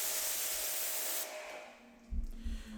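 Pressure water spray rinsing a car paint panel during detailing with citrus prewash, a loud steady hissing jet that cuts off midway, followed by dripping and light clatter close by.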